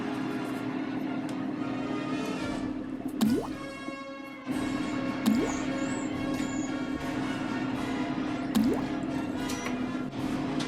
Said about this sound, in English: we're going to drop that right into our simmering pot.